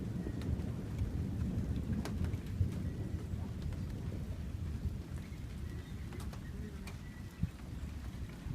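Heavy rain pours steadily during a severe summer thunderstorm in Sutton, Ontario, with low thunder rumbling beneath the downpour and a few sharper cracks standing out; no one speaks.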